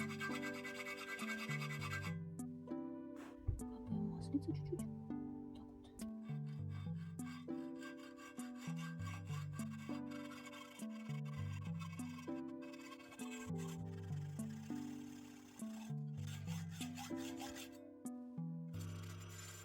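A metal bracket is hand-filed in a garage, with repeated rhythmic rasping strokes in short bursts and brief pauses between them.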